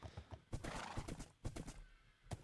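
A Minecraft horse whinnies amid repeated hollow clip-clop hoofbeats, the steps landing in an uneven rhythm close by with no talk.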